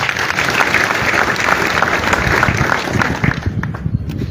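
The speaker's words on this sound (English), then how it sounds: "and they deserve a hand clap." Audience at an awards ceremony for graduates bursts into sustained, loud applause, a dense wash of many hands clapping that holds steady before thinning out near the end.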